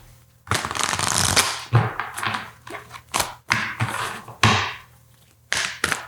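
Oracle cards are shuffled by hand, with loud riffling bursts close up and brief pauses in between, repeated several times and heard alone.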